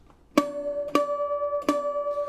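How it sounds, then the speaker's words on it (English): Three out-of-tune bouzouki harmonics ring out in turn, their sustained tone wavering with a slow beating pulse, close and fairly soft. "Sort of like an echo effect, saying that it's not in tune."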